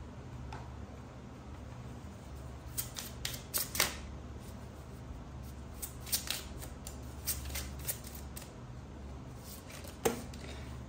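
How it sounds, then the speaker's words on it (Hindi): A deck of cards being shuffled during a tarot-style card reading, heard as faint, fairly close bursts of riffling and flicking clicks in clusters against a low background hum, with no talking. "I will shuffle again."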